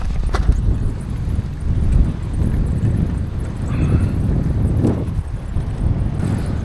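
Steady low wind rush buffeting the microphone while cycling along an asphalt road, a continuous broadband roar with gusty swells and no voices.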